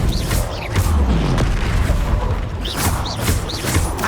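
The Confringo fire blast spell in Hogwarts Legacy: a loud booming blast with crackling, whooshing bursts and swept whistling tones, dense and continuous over a heavy low rumble, with no talk.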